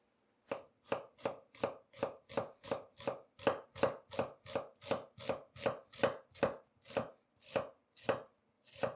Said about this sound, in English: I got a red onion here. We're going to use half of it. We're just going to do a julienne.